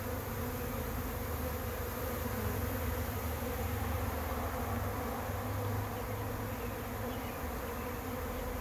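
A honeybee swarm buzzes steadily and densely as it moves into a trap set among tree branches outdoors, a continuous close, even hum of many wings without a break.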